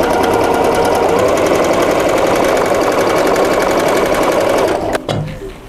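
Sewing machine stitching the folded 1 cm hem of a canvas crossbody bag, a loud, steady rapid rattle running continuously for about five seconds before stopping abruptly.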